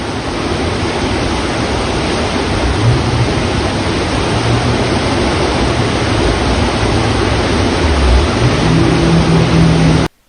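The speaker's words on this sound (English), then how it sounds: "That's like a river just going through and right on the road." Floodwater from Hurricane Ida's flash flooding in New York City rushes along a road like a river, a loud, steady roar of churning water that cuts off abruptly at the end.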